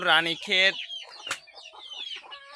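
Desi (native) chickens cluck in short bursts, two loud calls first and then softer clucks and chatter, close by.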